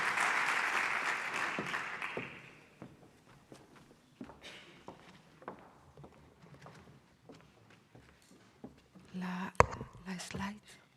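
Dense applause from a conference audience at a cybersecurity event in the Basque Country fills the opening two seconds, then fades into scattered footsteps, shuffling and handling noise, with a brief louder knock near the end.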